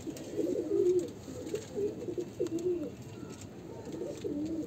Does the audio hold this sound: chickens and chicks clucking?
no